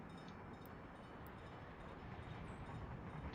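Train running in the city-building game Workers & Resources: Soviet Republic, a steady dense rumble of rolling rail cars held at constant level throughout, with no speech.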